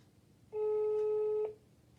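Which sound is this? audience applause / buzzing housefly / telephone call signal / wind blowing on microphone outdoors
telephone call signal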